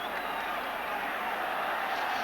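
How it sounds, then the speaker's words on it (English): Broad, steady wash of applause from a football stadium crowd at an Italy versus Argentina match, distant and continuous with no distinct voices. "I think the warm applause there was fully deserved"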